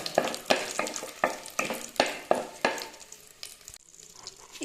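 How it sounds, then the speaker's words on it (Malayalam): Allspice leaf frying in butter in a pan, a steady sizzle broken by repeated scraping stir strokes in a regular rhythm that fade toward the end, close up with no speech. "ഇനി ബട്ടറിൽ കിടന്നിട്ട് നന്നായിട്ടൊന്ന് മൂക്കട്ടെ"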